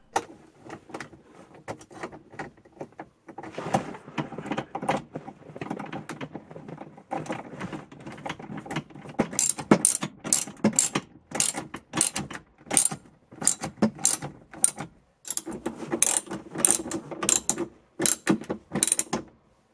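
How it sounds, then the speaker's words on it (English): Two 10mm bolts go into the front of the dash panel of a 1999 Acura RL, with bursts of fast ratchet clicking and light metallic rattles broken by short pauses, close and clear, with no voices. "Next, I installed the two 10mm bolts in the front of the panel."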